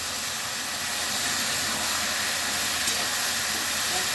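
Boiled taro and slit green chillies sizzle in a pan with prawns, giving a steady, loud frying hiss that holds evenly throughout with no voices.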